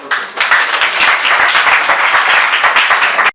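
Audience applause during a classroom session, a brief loud round of clapping from a group that stops abruptly.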